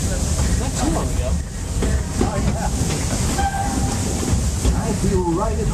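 A train ride at a Disney theme park rolls steadily along its rails with continuous rumble and clatter, and faint whistle-like tones rise above it. Recorded up close, with voices mixed in.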